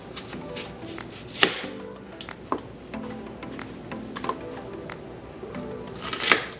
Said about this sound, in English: So let's chop the onions.